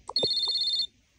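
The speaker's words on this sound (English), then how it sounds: "Mom, your phone is ringing." A phone in a Toca Boca game rings once with a short, steady electronic tone, clear and close, preceded by a couple of soft taps.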